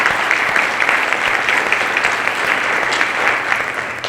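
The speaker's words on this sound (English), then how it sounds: "So let's give them a round of applause." A room full of people at a health foundation event in a college venue gives a steady, loud round of applause, dense clapping continuing evenly from start to finish.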